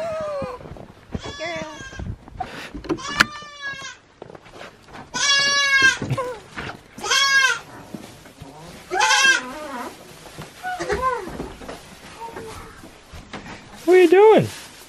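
Goats bleat repeatedly and loudly nearby, several wavering calls spread across the clip, with a person's voice briefly in between.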